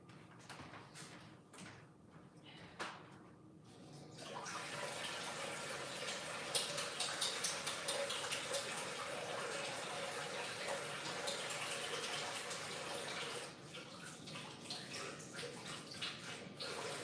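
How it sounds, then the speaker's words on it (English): Tap water runs steadily while someone washes their hands indoors. A few quiet knocks come first, then a loud, continuous rush of water that lasts about nine seconds before it eases off. "I gotta wash my hands."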